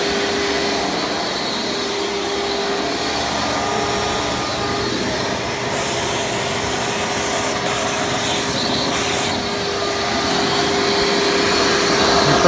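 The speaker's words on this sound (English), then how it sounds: "vacuum does have excellent suction out of any of the Elites I have" A Hoover Preferred Elite U5093-940 upright vacuum runs continuously with a loud, steady whirring roar and airy hiss, staying close and unchanging with no talking.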